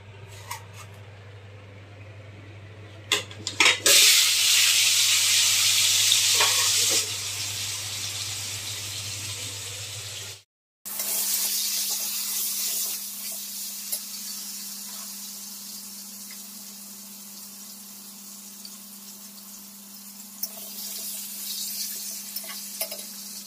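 Potatoes coated with salt and turmeric frying in a pan, loud hissing sizzle with stirring clatters, a brief cut to silence midway, then a steadier frying hiss with a low hum and occasional utensil knocks.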